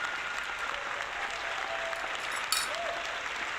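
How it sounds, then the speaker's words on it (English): A canned applause sound effect plays during a live retro gaming stream, a steady, even wash of clapping at moderate level with no voices over it. "The applause just goes on and on."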